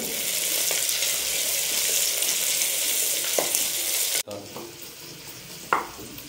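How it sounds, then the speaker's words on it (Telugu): Chopped onions fry in ghee for a coconut milk pulao, giving a dense close sizzle with stirring scrapes. It drops sharply near the end, leaving quieter frying and a few utensil knocks. "ఇందులో తరిగిన ఉల్లిపాయలు కూడా వేసేస్తున్నా ఉల్లిపాయలు వేసిన తర్వాత దూరగా వేపుకోవాలి"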